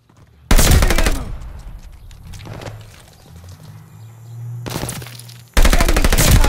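Bursts of automatic gunfire from a Call of Duty Mobile hardpoint match, with loud sustained rattling volleys at the start and end and a quieter stretch of distant shots and rumble between them.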